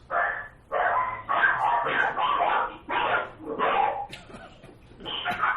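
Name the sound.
dogs barking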